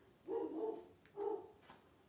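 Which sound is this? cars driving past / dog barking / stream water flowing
dog barking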